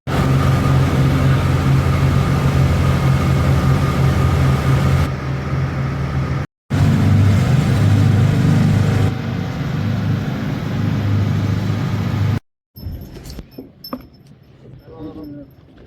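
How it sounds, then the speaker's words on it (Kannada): A ferry boat's engine drones loud and continuous on the crossing to Nusa Penida, with a brief cut midway before the rumble resumes, then it gives way to quieter scattered noises at the end. "ಈ ಬೋಟಲ್ಲಿ ನಾವೀಗ ಟ್ರಾವೆಲ್ ಮಾಡಲಿಕ್ಕಿದ್ದೇವೆ."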